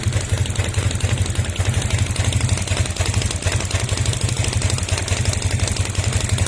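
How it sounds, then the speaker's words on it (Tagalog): A Honda Click 150 scooter engine with a knocking sound and misfire, idling close by with a steady, rapid low-pitched pulsing and light mechanical clatter and no talk. "Habang umaandar yung makina"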